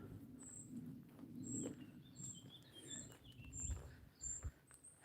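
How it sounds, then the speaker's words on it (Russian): Birds in a forest give faint, repeated high chirps and short tweets at a distance, scattered over a quiet background with soft rustling and occasional low bumps. "в лесу шум. Шум от птиц, насекомых, ветра, листвы."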